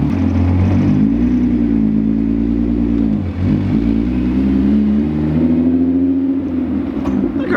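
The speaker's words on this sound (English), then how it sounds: "That car sounds so good." A car engine revs up and settles back several times, a deep, rough, steady roar right up close, with no one talking.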